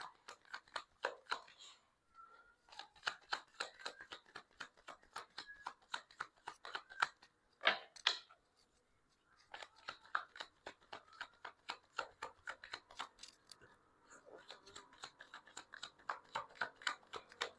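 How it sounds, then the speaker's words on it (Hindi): Tarot cards are shuffled by hand close up, giving rapid rhythmic flicking and riffling bursts that repeat steadily with brief pauses, with no voices. "मैं शफल कर रही हूँ, मेरी व्यूअर्स की लाइफ में कौन आ रहा है?"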